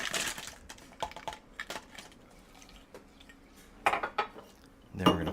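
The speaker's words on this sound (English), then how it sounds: "And we're going to add some fresh ice." Several hard clinks and clatters of fresh ice cubes dropping into a cup of boba milk tea, in uneven bursts with brief pauses between.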